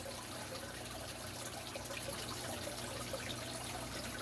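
Salty water pouring steadily into a waterfall tank, a continuous close trickling and splashing stream with no pauses.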